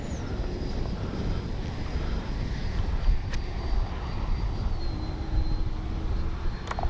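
A Freewing Banshee RC sport jet flies overhead with a steady, even ducted-fan whoosh and hiss that holds throughout, fairly distant, with no talking.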